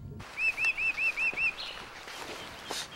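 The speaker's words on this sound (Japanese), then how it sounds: "鳥がいるみたいですね。" A bird chirps in a quick series of about six bright, evenly spaced tweets, close and clear, followed by fainter rustling ambience.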